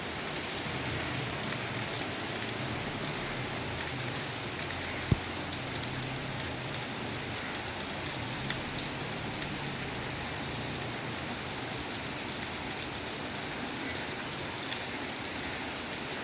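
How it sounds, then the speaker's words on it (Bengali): Rain falls steadily during sunshine, a continuous soft, even patter with a couple of sharper drips, heard alone and at moderate distance. "দেখো কী জোরে বৃষ্টি পড়ছে"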